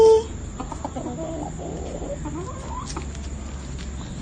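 Chickens in a cage cluck close by in a steady, irregular series of short calls that continue throughout at moderate volume, with no talking over them.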